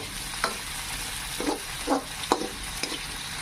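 Goat meat stew ingredients sizzle steadily in a hot pan while a utensil scrapes and stirs a few times at irregular moments, close and moderately loud.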